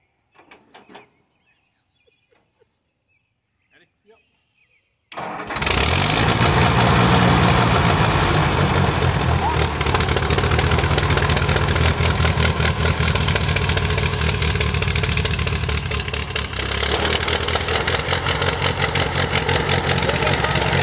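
A Ford 660 tractor engine bursts into life after a few seconds of faint clicks and knocks, then runs loud and steady with a rough, rattling mechanical idle that stays close and continuous to the end.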